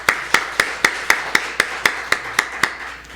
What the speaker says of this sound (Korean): 우리 박수 한번 쳐드리죠.